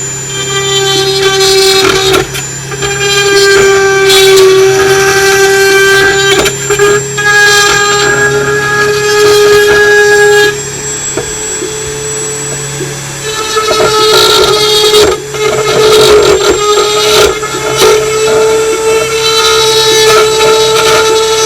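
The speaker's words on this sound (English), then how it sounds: "got my Dremel" A Dremel rotary tool fitted with a cutting bit cuts plastic on a Sega Mega Drive/Genesis Model 1 console, giving a loud, close, sustained high whine that shifts pitch and briefly dips as the bit bites and lifts.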